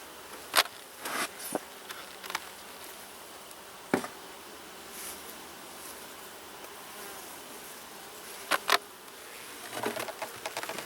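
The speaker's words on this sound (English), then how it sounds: "Lots of bees up here" Honey bees buzz in an opened hive, a faint steady drone running throughout, broken by a few sharp knocks and clicks from handling the hive.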